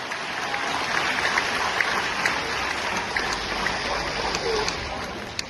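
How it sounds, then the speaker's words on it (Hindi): Steady wash of clapping from the audience at a patriotic and comedy poetry gathering, dense and continuous throughout, with no voices on top. "तो दूसरा हाथ देगा 50 तालियां"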